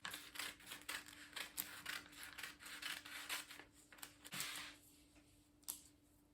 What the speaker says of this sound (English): Now we are going to cut the neckline.